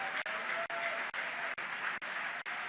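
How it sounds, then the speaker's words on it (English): Applause from an audience at a formal lecture event as a speaker returns to his seat, a steady dense patter broken by brief regular dips, moderately loud and fairly close, with a faint voice underneath. "Another round of applause, please"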